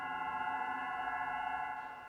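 A telephone rings with a steady electronic tone, strong and continuous throughout, in an indoor domestic drama scene, with no voices over it.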